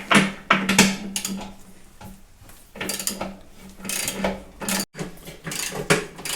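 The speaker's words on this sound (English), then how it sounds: "We're just going to crack the nuts loose so we got traction on the floor." Wheel nuts being loosened on a Ford 8N tractor in a shop, with irregular clanks, ratcheting clicks and metallic knocks of a wrench close by, uneven and busy with no talk.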